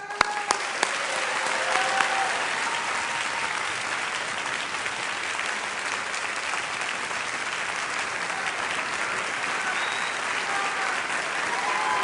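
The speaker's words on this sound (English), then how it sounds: "give a rousing round of applause for our Manhattan Borough President, Scott M. Stringer" Rousing applause from a large audience at a Manhattan State of the Borough address for Borough President Scott Stringer, a dense, steady wash of clapping that holds loud and even for the full twelve seconds, with a few sharper claps up front.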